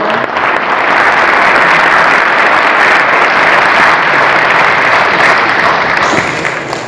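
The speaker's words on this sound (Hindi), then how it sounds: "एक बार फिर से सभी के लिए जोरदार तालियां" Loud, dense applause from an audience at a university gold medal ceremony for top students in Allahabad, sustained evenly for about seven seconds and tapering slightly at the close.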